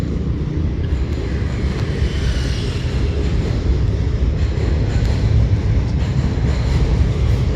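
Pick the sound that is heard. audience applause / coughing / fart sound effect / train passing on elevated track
train passing on elevated track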